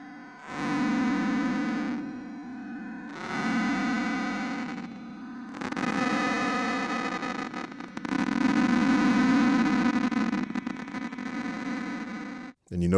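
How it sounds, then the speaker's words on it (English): A granular synthesis grain cloud with small grain size produces buzzy, distorted, harmonically rich tone bursts in several loud sustained blocks separated by short gaps. "Now, I don't know if you've ever heard the term of a grain cloud before, but this is a great tool to use to create certain textures."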